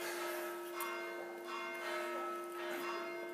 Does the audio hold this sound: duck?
no